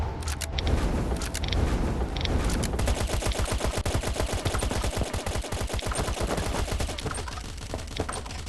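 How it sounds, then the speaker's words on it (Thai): Rapid gunfire in the survival video game Last Island of Survival as a player shoots a dummy target: dense, continuous bursts of loud shots with clattering reports, sustained and close throughout. "ยิงหุ่นอยู่ยิงหุ่นอยู่"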